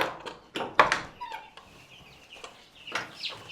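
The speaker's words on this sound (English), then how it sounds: "So let's go check in on the chicks and I'll show them to you." Clucking and chirping from chickens and chicks in a pen alongside meat birds, close and moderately loud, in several irregular bursts with quieter calls between.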